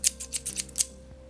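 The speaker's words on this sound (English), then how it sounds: "You'll just need a pair of scissors" Scissors snipping in a quiet room, about six crisp, evenly spaced cuts close to the microphone over a low steady hum, then the snipping stops.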